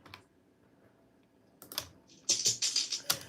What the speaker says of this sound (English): that's the sound of dice rolling.